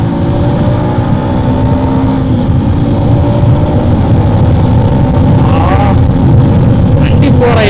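A 2025 KTM Adventure 390 motorcycle engine pulls steadily under way while riding, its droning note loud and constant with wind rush, and a rider talks over it.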